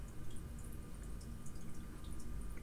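Melted red wax poured into a stamp mold gives a faint, steady liquid trickle with light dripping, continuous and close over a low background hum.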